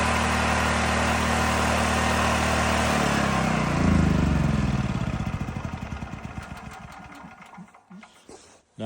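An Eagle North generator runs at a steady, loud engine drone close by, then slows and sputters into irregular pulses before dying down near the end.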